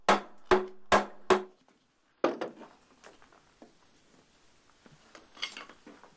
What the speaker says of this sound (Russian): А о приближении полуночи сначала извещает стук дерева по дереву,